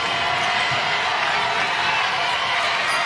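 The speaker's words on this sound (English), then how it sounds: "She wants the home crowd to cheer a little bit louder and a little bit harder" A home crowd at a Miami Hurricanes versus Notre Dame women's basketball game fills the arena with steady, dense cheering and roar, loud and continuous throughout without a break.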